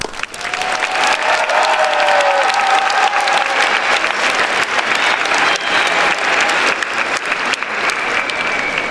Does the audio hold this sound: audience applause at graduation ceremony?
yes